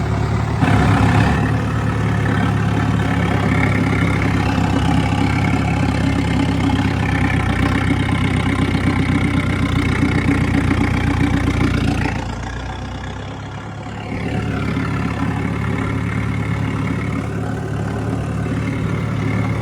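A steady, loud Sonalika tractor engine idles throughout with a low rumbling drone, dipping briefly in the middle before settling back to a constant hum.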